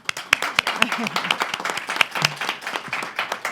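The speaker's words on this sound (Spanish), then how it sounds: "Un aplauso, por favor." Audience applause at a book presentation on electoral justice at the Guadalajara book fair, a moderate crowd clapping with distinct sharp claps over a steady patter, with some faint speech mixed in.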